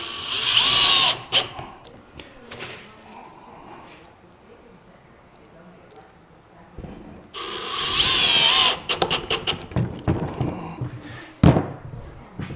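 A power drill drives screws into a scrap-built grinder stand, with two loud whirring bursts, one at the start and a longer one later, followed by clattering knocks, and quieter handling noise between them.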